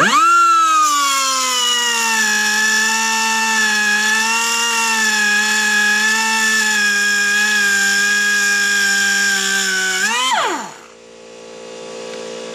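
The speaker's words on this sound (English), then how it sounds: "let me go get the die grinder, and we'll start cutting on this." A die grinder spins up and cuts into the rear axle of a 2016 Jeep JK: a loud, steady high-pitched whine with a rising harmonic stack holds for about ten seconds, then winds down sharply as the tool stops.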